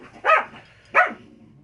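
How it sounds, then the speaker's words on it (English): Dogs in The Outer Worlds video game on PS4 give two sharp, evenly spaced barks, loud and close, with a short quiet gap between them. "Dogs are barking."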